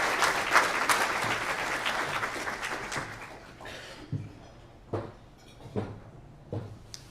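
A school breakfast audience claps to welcome the new head of school, the loud dense applause fading into a few scattered final claps, without talk.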